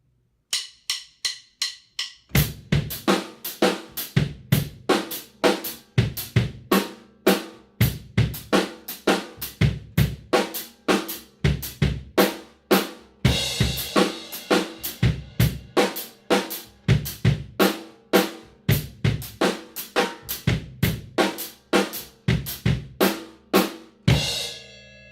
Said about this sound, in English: Now we're going to play a straight ahead dotted 1/8 note with the right hand.